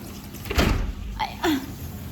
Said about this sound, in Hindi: मैं लाइटिंग के लिए ये वाला दरवाज़ा खोलती हूँ